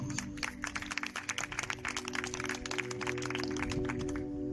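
A church congregation at a Sunday service claps hands in praise, a fairly faint, rapid, steady patter of many hands that continues for several seconds with low hum beneath, no talk.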